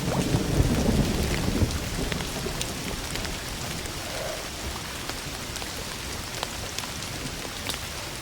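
A rainstorm in the video game Indiana Jones and the Great Circle, with a dense steady patter of rain on surfaces and a low thunder rumble swelling at the start before easing into continuous rainfall, no voices.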